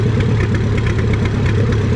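A small pulling tractor at a spring tractor pull in Lynden, Washington idles with a steady, loud, close, low rumbling chug.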